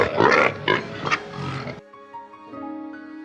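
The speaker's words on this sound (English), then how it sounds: "Can you grunt like a wild boar?" A wild boar gives several rough, throaty grunts in quick bursts, loud and close, then falls silent as light tonal music takes over.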